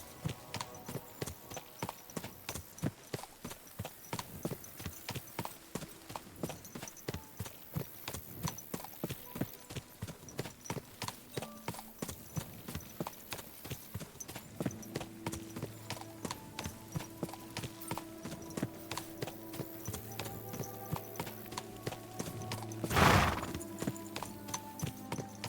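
Horse hooves clip-clop steadily and close in Kingdom Come: Deliverance II, a continuous rhythmic trot running the whole time, with a louder thump near the end.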